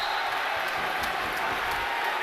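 A student section at a high school varsity basketball game, Mount St. Joseph against Archbishop Spalding, roars in a steady, loud wash of crowd noise, with a commentator's voice faintly under it.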